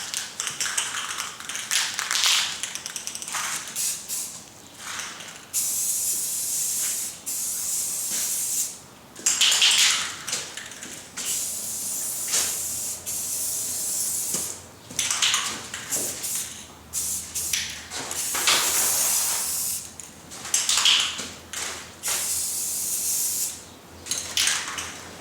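Spray gun laying a first coat of paint on interior car trim and dash parts, a steady close hiss in repeated bursts with short pauses between passes.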